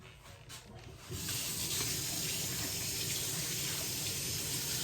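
Tap water runs steadily into a kitchen sink while hands are washed, a continuous close hiss and splash that starts abruptly after a second of quieter room sound, during biscuit and sausage gravy prep.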